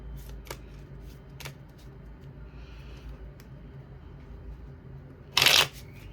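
Tarot cards get shuffled nearby, with a few soft flicks early on and a brief dense riffle near the end over a quiet room hum.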